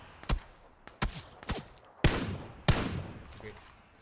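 Gunfire in the video game Foxhole: five sharp, separate shots spaced about half a second apart, close and loud, each with a short ringing tail over faint background noise.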